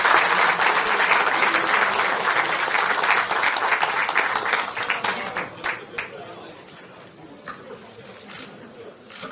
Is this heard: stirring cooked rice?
no